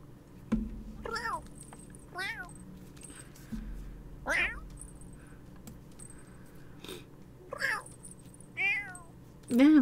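Cats in The Sims 4 meow repeatedly, around seven separate drawn-out cries spaced a second or two apart, clear and close over a quiet background with faint game sounds.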